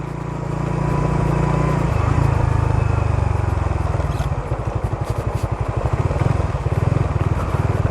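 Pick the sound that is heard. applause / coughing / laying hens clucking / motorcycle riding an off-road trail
motorcycle riding an off-road trail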